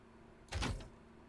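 A door being fitted into place in the survival game Planet Nomad gives a single short, fairly quiet clunk with a brief whooshing swell, alone against faint background hum.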